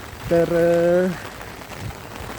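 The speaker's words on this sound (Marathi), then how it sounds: "सकाळपासून लई पाऊस चालू आहे" Heavy monsoon rain pours steadily on the way to Bhatghar Dam, a continuous hiss throughout, with a short loud tonal blare near the start and a voice briefly heard.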